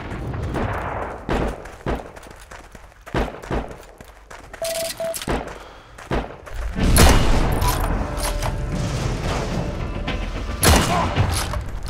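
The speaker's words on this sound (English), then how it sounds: "who's shooting at me?" Gunfire in the World War II shooter game Heroes and Generals: scattered single shots and short bursts, some sharp and near, others dull and distant, build into heavier sustained firing in the second half, with no talking.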